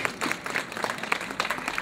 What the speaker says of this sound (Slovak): A samozrejme, áno, zaslúžia si potlesk.